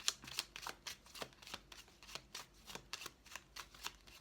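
Tarot de Marseille cards are shuffled for a nine-card spread, a quick regular series of crisp riffling swishes close by, about three per second, with no talk.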